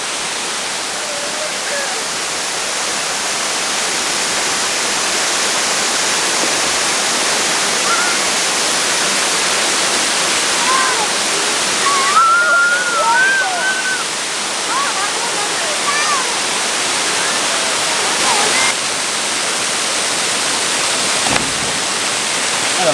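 A waterfall's rushing water pours in a loud, constant roar throughout, with brief voices rising faintly over it around the middle.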